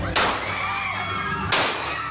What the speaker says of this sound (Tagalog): Maya-maya, biglang naglabas ng baril ang lalaking ito at pinuntirya ang nakatalikod na kapitan ng barangay.